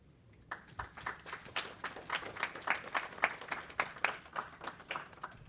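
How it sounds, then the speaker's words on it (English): Applause from a policy seminar audience at the close of speaker talks: a faint, steady patter of many hands clapping that swells slightly and continues for several seconds with no voices over it. "Let's give them another round of applause."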